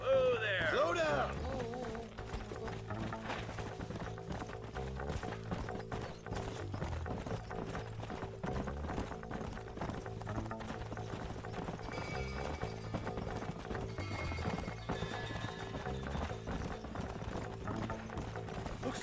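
Horse hooves clip-clop in a rapid, steady galloping rhythm in the video game Red Dead Redemption, running continuously under game music and mechanical clicks, with a brief whinny-like burst at the start.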